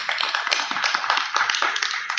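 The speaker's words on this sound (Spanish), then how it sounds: "Un fuerte aplauso, por favor" A small audience at a leadership talk gives a round of applause, distinct sharp claps in an uneven, moderately close rhythm, with no speech over them.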